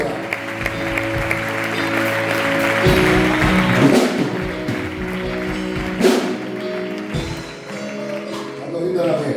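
Church congregation applauding during a Spanish-language sermon, a steady wash of clapping throughout with a loud preacher's voice and shouts over it, swelling and dipping across the span.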